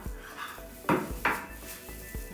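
A knife cuts through the end of a chicken wing drumette on a board, with a few sharp close knocks and scrapes, two louder strikes in the middle and quieter taps around them.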